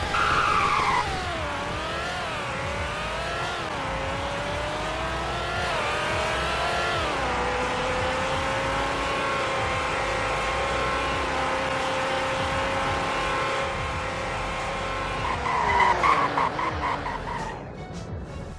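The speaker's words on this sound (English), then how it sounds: "now for a 0 to 100 braking test" A car in a video game brakes hard from 100 during a braking test, with tires squealing and skidding in long sliding, pitch-shifting tones over engine noise, loud and continuous for most of the stretch before fading out.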